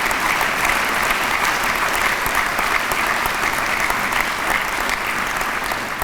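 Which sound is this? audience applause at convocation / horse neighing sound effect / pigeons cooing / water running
audience applause at convocation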